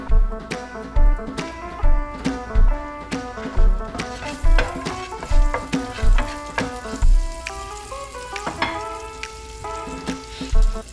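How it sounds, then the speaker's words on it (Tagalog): Onion, garlic and canned sardines sauté in a hot pan, a steady sizzle punctuated by repeated rhythmic clanks and scrapes of a spatula stirring, close and moderately loud with no talking. "Gigisa ko lang naman ito, my friends and friendship, sa sibuyas, bawang, yun lang, at sardines."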